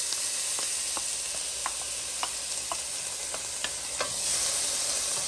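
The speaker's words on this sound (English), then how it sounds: "We're gonna stir the onions in the butter." Onions sizzling steadily in butter and oil in a pan, with soft scraping stirs of a spoon every half second or so over the continuous frying hiss.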